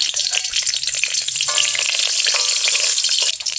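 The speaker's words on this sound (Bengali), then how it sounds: "ফোড়নে দিয়ে দিলাম একটা লঙ্কা শুকনো, আর দিয়ে দিলাম 2টো তেজপাতা, 2টো গরম মশলা" Dried red chilli, bay leaves and whole garam masala spices crackle and sizzle in hot oil in a kadai, a loud, steady bright hiss with a few sharper pops, no voices.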